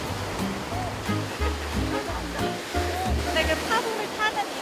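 Ocean surf at a beach in Busan, South Korea, a steady broadband wash of breaking waves that runs throughout while a voice talks over it.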